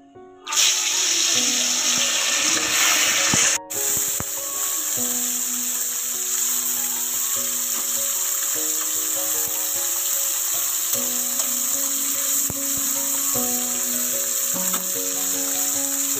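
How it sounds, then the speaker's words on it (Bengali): Tilapia fish fry in hot oil in a wok, giving a loud, steady, close sizzle that runs throughout, with a brief clatter near the start and no talking. "মাছগুলো ভাজা হচ্ছে।"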